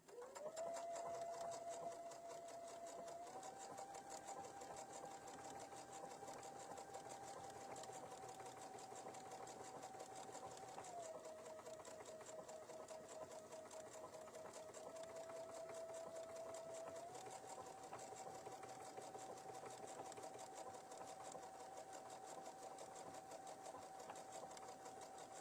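A sewing machine runs steadily in a continuous whirring stitch with a fine rapid ticking. It is faint and even throughout, and its pitch shifts slightly between passages.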